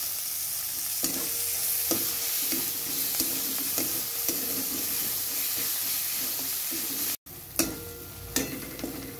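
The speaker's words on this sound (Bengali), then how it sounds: "মশলাটা কষানো হয়ে গেছে, তেল ছেড়ে দিয়েছে" Spice masala fries steadily in oil for a garlic eggplant dish, a dense, continuous sizzle broken by regular light stirring taps, with a short break and a few sharper knocks near the end.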